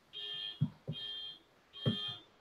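Steady electronic alarm tone pulsing in three long bursts, sounding as background during a tabletop tuk-tuk race game session, with soft low thumps between and under the tones and no voices.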